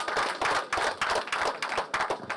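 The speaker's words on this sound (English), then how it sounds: "You should give a big round of applause for him." Audience applause at a conference event, a brisk round of many hands clapping in quick rhythmic bursts, close and fairly loud with no talking over it.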